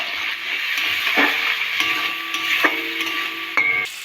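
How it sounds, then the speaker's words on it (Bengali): Spice paste (masala) with salt fried and stirred in a pan for a Gobindobhog rice muri ghonto: a steady close sizzle broken by several sharp spoon scrapes against the pan, with no talking. "ভালো করে কষে নেবো মশলাটা।"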